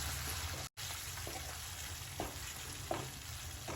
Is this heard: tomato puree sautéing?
yes